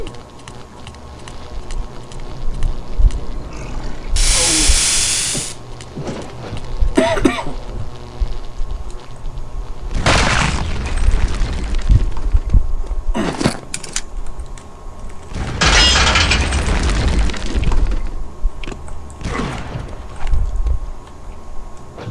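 Bomb blasts in the video game Return to Castle Wolfenstein: three loud, broad bursts of noise, each lasting one to two seconds, with quieter game sounds between them.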